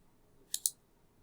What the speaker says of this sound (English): And so I just click on the Save button.